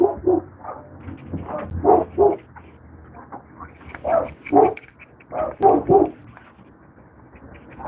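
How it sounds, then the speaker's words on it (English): Several dogs bark in excited bursts and yips, close and fairly loud, with a few quiet gaps between clusters of barks. "My dogs are all fucking wound up today."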